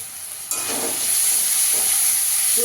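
Spiced egg curry masala with chopped green chillies sautés in a pan, hitting a loud sudden sizzle that holds steady and bright, with occasional stirring scrapes and no voices.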